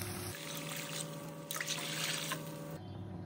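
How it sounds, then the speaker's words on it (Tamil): Water is poured into a pan of sautéed tomato and onion for ghee rava upma with peas, a soft, steady trickle and splash lasting a few seconds. "இப்போ தண்ணி சேர்த்துக்கலாம்."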